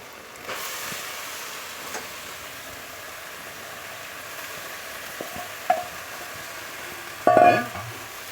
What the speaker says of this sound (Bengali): এখন আমি এর মধ্যে দিয়ে দেব বাঁধাকপিটা